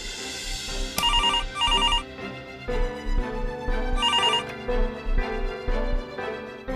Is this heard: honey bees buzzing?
no